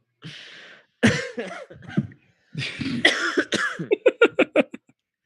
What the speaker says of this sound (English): Someday I'll get over this cough.